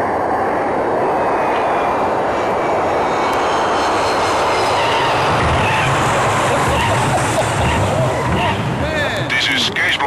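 A fixed-wing airplane roars loudly and steadily through its landing, a dense, broad engine and wind rush that fills the whole stretch, with a thin whine running through it.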